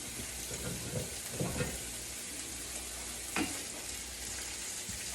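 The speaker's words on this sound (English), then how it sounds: "I put them in there to start cooking and frying up a little bit." Corn tortillas and ham frying in a pan over low heat, giving a steady soft sizzle with a few faint clinks and stirring scrapes, heard alone with no talk.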